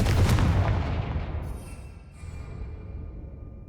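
Confringo, the fire spell in Hogwarts Legacy, goes off as a booming explosion that hits loudly at the start and rumbles away over several seconds, with no talk.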